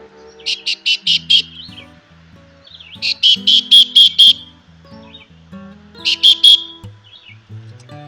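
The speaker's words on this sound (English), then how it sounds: "I sound my whistle to make sure there's nobody else in the tunnel" Three bursts of short, shrill whistle toots from a canoe before entering a cave tunnel, about five quick blasts each, separated by pauses over a low droning engine hum.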